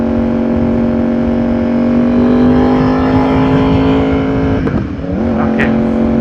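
A Yamaha R1 motorcycle engine pulls hard under a rider, its loud, steady rising drone climbing in pitch, then a gear change interrupts it and the revs rise again.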